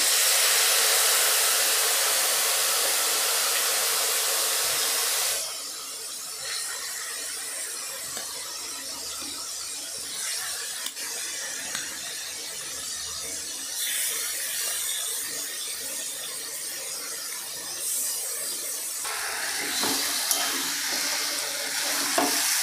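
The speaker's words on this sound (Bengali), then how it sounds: "এবারে আস্তে আস্তে নাড়াচাড়া করতে হবে যাতে তেল সমস্ত কলার সঙ্গে সুন্দরভাবে মাখানো হয়ে যায়" Banana pieces fry and sizzle in hot oil while being stirred in a pan over a lowered gas flame, with a steady bright hiss that is loud at first, then softer with scraping stir sounds, and no talking.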